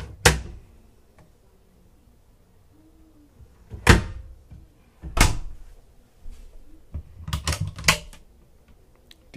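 A cedar-lined closet door aboard a yacht is handled at close range, giving a run of sharp clacks and knocks at irregular spacing, ending in a quick cluster of clicks.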